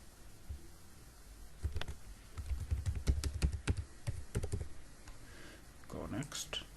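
A password goes into a computer keyboard as a quick run of soft, close key clicks in short bursts, with quiet moments between them and a small rustle near the end.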